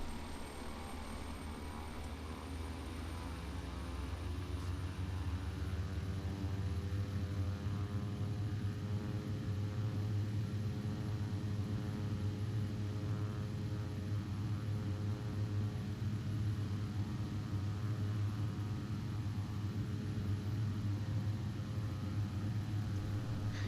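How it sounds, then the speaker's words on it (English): Beechcraft King Air turboprop accelerating down the runway for takeoff, engines holding a loud, steady roar and propeller drone from start to finish, heard from the cockpit with no voices. "Now, we're ready to thunder down the runway"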